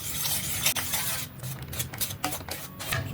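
Khoya (mawa) stirred into a besan mixture in a pan for mohanthal barfi, with soft scraping and rubbing strokes and light utensil clinks in an irregular rhythm, close and quiet, with no voices.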